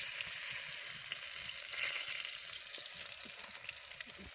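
Bitter gourd pieces for karela kalonji frying in oil in a pan, an even, continuous close sizzle with faint bubbling crackle and no speech over it.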